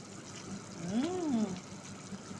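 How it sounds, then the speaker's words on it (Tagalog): Water poured into a pot of chicken sinigang with taro, a soft, steady splash and gurgle running through the whole moment, fairly quiet and close. "Ayan, magdadagdag ng tubig."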